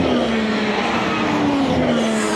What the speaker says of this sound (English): They're doing 180 and having to brake into this corner right here.